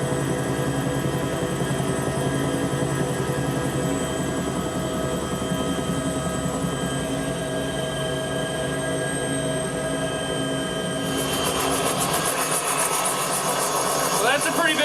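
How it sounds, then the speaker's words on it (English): Helicopter rotors spin up and the aircraft flies out toward a submarine, a steady loud whirring drone lasting throughout with a change in texture near the end as it shifts pitch. "we spun up the helicopter and headed out to the sub"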